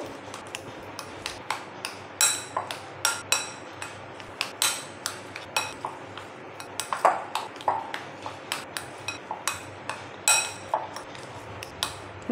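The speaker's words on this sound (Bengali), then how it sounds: "নুন ডিমেতে তো দিয়ে দেবো নুন পরিমাণ মতো। এটা ভালো করে মিক্স করে নেবো।" Eggs are beaten with salt and mustard oil in a bowl: a quick, irregular series of sharp utensil clinks and taps against the bowl, close and fairly loud, with no voices.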